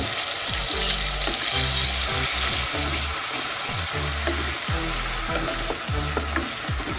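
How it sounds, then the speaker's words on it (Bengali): Onion paste frying in hot oil after whole spices were tempered, a steady loud sizzle broken by repeated scraping stirs of a spatula, no voices. "প্রথমে পেঁয়াজ বাটাটা দিয়ে দিচ্ছি"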